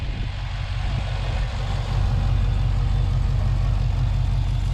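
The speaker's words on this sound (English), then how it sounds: "Let it idle for a little bit. I like its idle." A Chevrolet SS V8 fitted with ARH long tube headers idles with a deep, steady rumble that steps up slightly in loudness partway through, with no talk over it.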